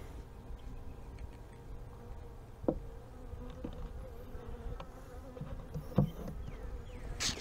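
Defensive honeybees buzzing while a Layens horizontal hive is split: a faint, continuous drone with a few louder passes of single bees close by, no talk.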